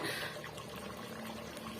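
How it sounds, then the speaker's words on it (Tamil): Leftover marinade water from soaked chicken is poured into a pot for Chettinad chicken biryani, a soft, steady liquid pour, faint and close, with no talk. "சிக்கன் ஊற வச்ச மசாலா வந்து தண்ணி நான் சேர்த்து இதோட நான் சேர்த்துக்கிறேன்"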